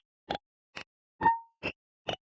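Oar weapon in the video game Rec Room, five short, separate hollow plopping knocks spaced roughly half a second apart, the middle one carrying a brief ringing tone, clean and isolated with no voices.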